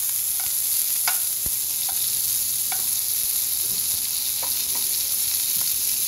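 Thin-sliced wrapped wagyu beef sears in a hot pan, a steady close sizzle running throughout with a few sharp clicks and taps of a utensil and no talking.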